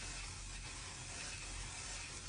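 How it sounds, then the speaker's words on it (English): A continuous airy mist of One Size Until Dawn makeup setting spray, a steady broadband hiss lasting a couple of seconds at moderate level, with no talking over it. "setting spray to lock everything in."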